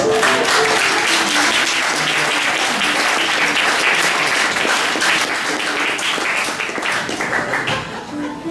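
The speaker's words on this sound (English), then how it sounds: "Please give a round of applause as our actors take the stage." A theatre audience at the Jane Pickens Theatre claps for a live radio theatre show as the actors take the stage. The applause is loud and sustained, a dense wash of many hands that thins slightly near the end.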